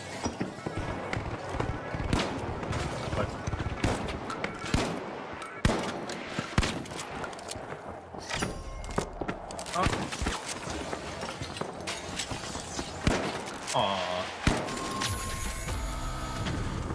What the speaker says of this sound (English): Somebody for some random team is shooting at us.